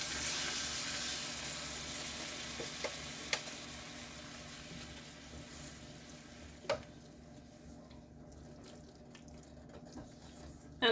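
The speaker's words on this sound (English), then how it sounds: "slowly stir in a little bit of water" Water slowly stirred into a pan of smothered chicken drumsticks with gluten-free flour, giving a soft, steady sizzle and gentle bubbling, with a few faint clinks of the utensil against the pan.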